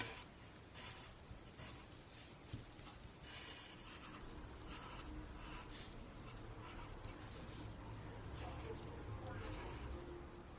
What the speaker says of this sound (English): So go back with your pencil and darken the lines you want to keep.